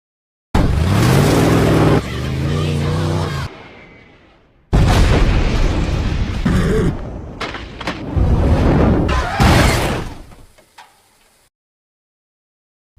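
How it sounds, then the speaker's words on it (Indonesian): Loud, booming blast as a fighter jet bombs a site in an action film, a sustained roar with rumbling aftershocks and crashing debris bursts, then fading into silence. "sebuah jet tempur datang dan meledakkan lokasi tersebut"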